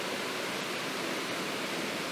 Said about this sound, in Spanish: esta pequeña cascada que estamos encontrando por acá.